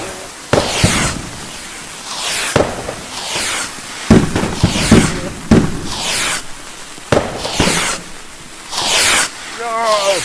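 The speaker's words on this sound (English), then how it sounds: "You can set fire to fireworks." Fireworks going off in the VR shooting-range game Hot Dogs, Horseshoes & Hand Grenades: a loud sequence of bursts and hissing sprays repeating every second or two, with a voice talking over them.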